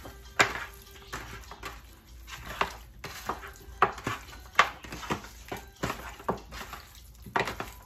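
Pork ribs coated in adobo are stirred in a pot, making repeated scraping and clinking of a utensil against the pot in an irregular rhythm at close range.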